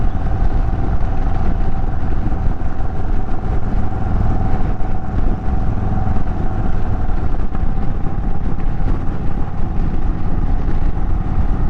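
An Indian motorcycle engine drones steadily while riding through countryside, a continuous loud rumble with road and wind noise and no talking.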